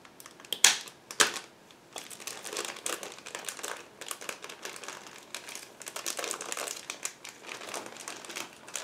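Plastic packaging of a 1/35 Tiger Model IDF Nagmachon Early kit being opened, its paper clips removed, with irregular crinkling and sharp clicking rustles, a couple of louder snaps early on, close by.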